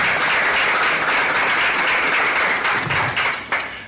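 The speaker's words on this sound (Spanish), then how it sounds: "yo pido un fuerte aplauso para doña Elsa" A strong round of applause at a congress on digital media and social networks: many hands clapping loudly and continuously, thinning slightly toward the end with a few louder isolated claps.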